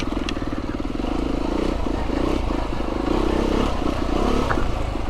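Beta 390 RR dirt bike running steadily on a wet trail, its engine a continuous loud drone with rough, pulsing low-end chugging and some clatter and scraping from the terrain.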